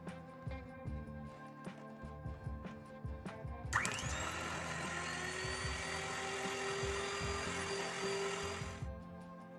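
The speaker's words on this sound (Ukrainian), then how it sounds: "м'яке вершкове масло та ще раз перемішуємо міксером." An electric hand mixer whirs steadily as it beats soft butter and sour cream into a peach cake batter, kicking in loudly partway through and running continuously at close range after some lighter kitchen clatter.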